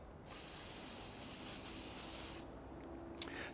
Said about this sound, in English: So we simply spray the Rost Black onto the rusted bolt and allow it time to soak in.